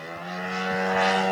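A small RC model airplane engine in flight, with a buzzy, lawn-tractor-like drone held at a steady pitch that grows slightly louder over a short stretch, close and alone.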